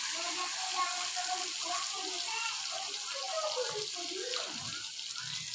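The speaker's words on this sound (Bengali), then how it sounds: "বাটিটা ধুয়েও একটু পানি দিয়ে দিলাম" While cooking a Bengali tengra fish curry, water runs from a tap as a bowl is rinsed, a soft steady splashing stream close by that tapers off near the end.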